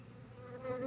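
Honey bees from a transported swarm buzzing steadily and close, a droning hum that grows slightly louder toward the end, with no voices.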